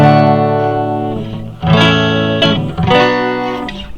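Electric guitar strums the chords of a tune with no muting, so the loud chords ring on and blend together, with a few fresh strums and no choked gaps between them.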